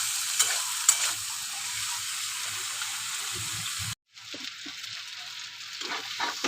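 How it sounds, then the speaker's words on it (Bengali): Shrimp and spices sautéing in a pan for a Bengali shrimp and fig curry, with a steady close sizzle and occasional stirring scrapes, broken by a brief gap partway through. "তাই আমি যে তরকারিতে দিই তার মশলা কষিয়ে তারপর চিংড়ি মাছটা দিই"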